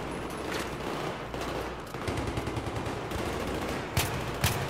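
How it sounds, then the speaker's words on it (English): Many Marines fire at once in the Battlefield 3 campaign, a dense, continuous fusillade of rifle and machine-gun shots with sharp louder cracks standing out near the end. "There's like 600 Marines shooting at that one guy"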